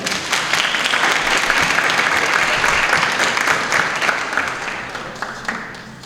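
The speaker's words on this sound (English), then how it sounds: "another round of applause for Zanaya" Sustained audience applause at a student award ceremony, a dense and steady wash of clapping from a crowd that gradually tapers off toward the end.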